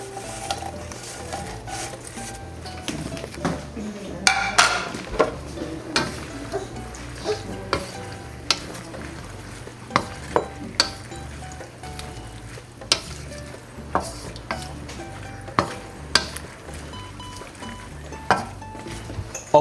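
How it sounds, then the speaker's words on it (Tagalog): Tofu cooking in a pan with a little water, a steady low sizzle broken by regular scraping and clacking of a utensil stirring against the pan, fairly close, with no voices. "Tapos ilalagay ko na tong tofu."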